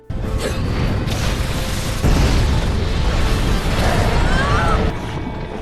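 A big, sustained explosive roar fills the whole clip, loud and rumbling with a surge partway through, like a massive blast.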